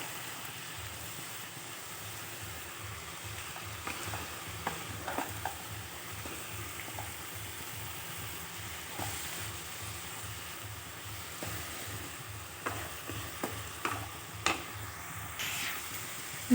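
Shredded cabbage fries in a pan for a home-style chorchori, a steady low sizzle running throughout with intermittent scraping and knocking as a spatula stirs it.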